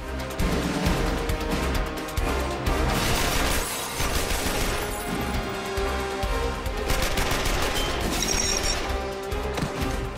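Rapid bursts from an M3 submachine gun firing at a target in a window, loud and continuous over about ten seconds, with sharp overlapping reports and echoing impacts.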